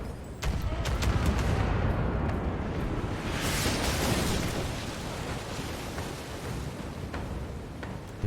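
Ship cannons boom in a naval battle in the video game Pillars of Eternity 2, with a loud cluster of blasts that swells into a sustained rumbling roar and then slowly fades.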